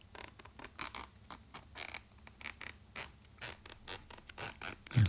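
Zipper pulled open on a Nintendo Switch carry case during an unboxing, a close, quiet run of short raspy bursts in an uneven rhythm with no talking.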